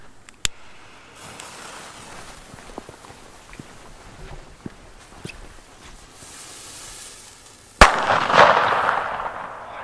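Loud firecracker (Böller) bangs outdoors: one sharp crack early, faint rustling and footsteps between, then a very loud close blast followed by a crackling, echoing tail.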